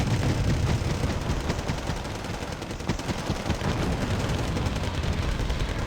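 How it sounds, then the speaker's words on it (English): Dense gunfire from a VAB armored vehicle and infantry machine gunners in the Wargame: Red Dragon strategy game, a continuous loud rattle of overlapping shots and battlefield noise with no pauses. "We've got the VAB there firing away."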